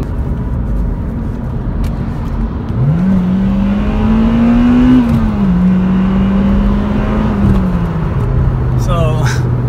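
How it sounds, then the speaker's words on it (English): A Honda Civic Type R revs up through its VTEC range, the engine note climbing and holding steadily before easing off, heard close from inside the car over road noise. "that's my first VTEC in this car"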